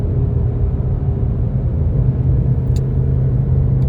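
Steady low road rumble from a car driving at night on a lonesome road, continuous and fairly loud from inside the cabin, with no voices.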